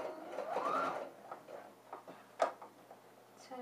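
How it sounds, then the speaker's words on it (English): A sewing machine stitches an armhole facing in short bursts of quiet mechanical whirring and ticking, close but faint, with small clicks between runs. "continue sewing."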